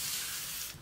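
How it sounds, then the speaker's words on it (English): La Roche-Posay thermal spring water mist sprayed during a makeup routine: one brief, steady, close hiss of fine spray, cutting off abruptly. "I'm just gonna spray this thermal spring water by La Roche-Posay."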